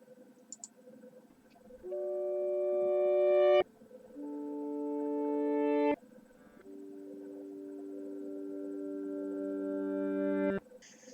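Looped reversed guitar transients for cavernous sound design, heard alone: three long harmonic tones that each swell steadily in loudness and then cut off abruptly, with a few faint clicks in the background.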